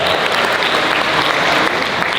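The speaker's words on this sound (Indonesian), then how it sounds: "Semangat, tepuk tangan buat kalian" Loud, dense, continuous applause from a crowd at a press conference for a national motorcycle-club jamboree in Bali, steady throughout with little talk.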